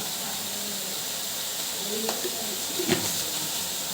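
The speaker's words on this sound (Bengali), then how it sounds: "মশলাটাকে আমি ভালো করে কষিয়ে নেব" Spice paste for egg dopiaza fries in a pan with a steady, close hiss and sizzle, punctuated by a couple of soft stirring scrapes.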